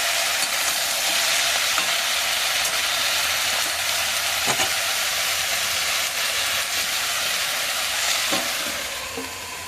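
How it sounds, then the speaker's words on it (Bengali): Amaranth greens with panch phoron and chopped onion frying in hot oil, giving a steady close broadband sizzle for about ten seconds, with a few faint clinks and stirring sounds near the end and no talk. "এবারে তেলে 5 ফোড়ন পেঁয়াজ কুচি দিয়ে আদা শাকটা কষিয়ে দেবো"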